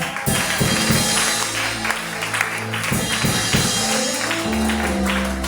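A church congregation at a special fire prayer and fasting service claps and cheers for the Lord, a loud, dense wash of applause and voices filling the room, with rhythmic clapping beneath it.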